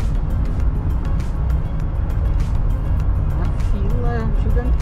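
Street traffic in central Curitiba along Rua XV de Novembro, with a long queue of cars: a steady, close rumble of engines and passing vehicles that runs throughout under continuous talking.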